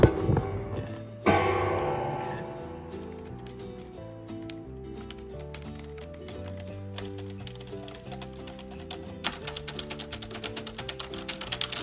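Quick clicking keystrokes on a computer keyboard, growing busier toward the end, with tonal background music playing throughout.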